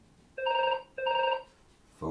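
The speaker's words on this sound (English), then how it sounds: "Phone's ringing, I apologize for that." A telephone rings in two close electronic trills, each about half a second long with a short gap between, clear and fairly loud, before someone begins speaking at the end.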